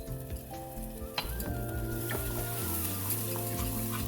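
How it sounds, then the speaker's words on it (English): Food sizzles in a pan while turmeric powder is stirred in, a bright steady frying hiss with a spoon scraping and clinking a few times, close up, and soft background music running underneath. "Give it a nice stir, and we can add a little bit of turmeric powder"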